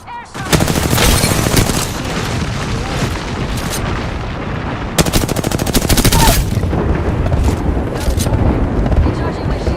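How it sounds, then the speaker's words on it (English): Rapid automatic gunfire and booming blasts from a shooter video game, loud and nearly continuous, with dense volleys surging at the start and again midway. "We got company, people. They're shooting at me."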